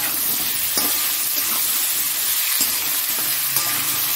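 Onion, boiled potato and tomato frying in a pan, a steady loud sizzle and hiss close up, with a few scraping stirs of a spatula breaking through the continuous crackle.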